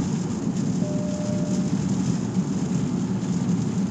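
Steady rain heard from inside a Nissan Ariya electric car driving on a highway, a constant broad hiss of rain and road noise filling the whole stretch at even loudness, with no voices.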